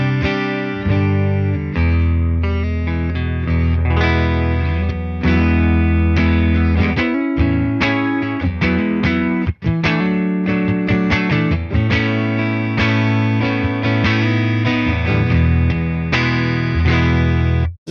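Single-coil electric guitar through a Tone King Imperial preamp pedal plays chiming clean tones, a loud, continuous run of ringing chords and picked notes lasting well over a quarter minute, with no talking.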